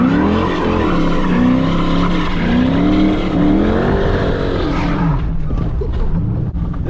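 A car spinning its tyres at a car meet, a loud continuous engine roar with a rising and falling rev and a sustained screech of tyres that fades slightly near the end.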